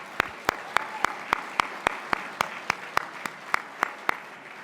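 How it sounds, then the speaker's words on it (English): Audience applause for a speaker at a conference keynote session: a steady crowd clapping bed with one nearby person's loud, regular claps punching through at an even beat throughout. "How about another round of applause for Attorney General Moody?"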